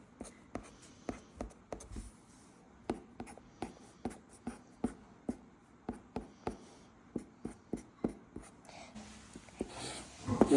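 Pencil drawing spiky lines on paper, sketching small cactus spikes in a camel drawing: a steady series of short, crisp scratchy strokes, close and distinct, with a brief rustle at the end.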